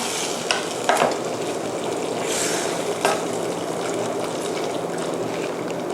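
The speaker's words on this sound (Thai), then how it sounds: "เราจะเติมเนื้อหมูลงไปนะคะ ผัดให้เข้ากันนะคะ" Pork stir-fried in Thai panang curry paste with split coconut cream, a steady close sizzle with a few scraping stirs of a utensil against the pan.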